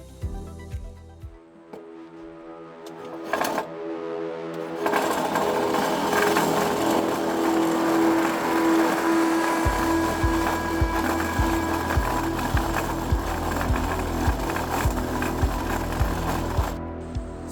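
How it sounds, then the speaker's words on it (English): A pinning tool cutting a spindle on the end of a log railing, a power-tool whine that kicks in after a few seconds and grinds on steadily and close, with a low humming drone joining midway. "So this is the pinning tool I'm using. Creates the spindle on the end."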